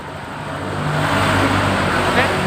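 A fuel-injected motorcycle engine starts and settles into a steady idle, a low continuous rumble that holds close and even throughout.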